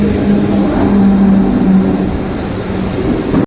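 A train rumbles loudly and steadily nearby, with a low droning engine hum and rolling noise before it cuts off abruptly at the end.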